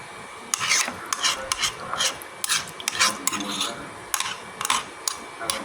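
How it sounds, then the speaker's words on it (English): Freezer meal ingredients, lightly salted, are stirred with a utensil in a ceramic dish, making close, scraping, rubbing strokes in an irregular rhythm that repeat steadily throughout. "So, I'm stirring this up, as you all can see."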